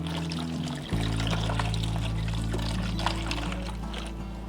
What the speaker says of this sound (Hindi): अब इसमें थोड़ा सा फिर पानी डालूंगी